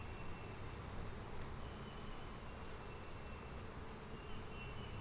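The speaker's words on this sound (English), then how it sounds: "There are a ton of bees in this hive" Honey bees swarming thickly in a Flow Hive during an inspection, a dense, even drone of buzzing that holds steady throughout, soft and unbroken.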